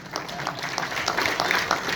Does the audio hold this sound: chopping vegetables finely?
no